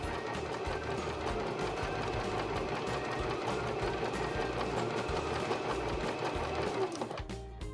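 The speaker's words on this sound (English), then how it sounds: "So we'll just sew to the end." A Baby Lock Zest sewing machine stitching a bridging stitch to the end of the fabric, a fast, steady mechanical chatter of the needle running close and continuously before winding down at the finish.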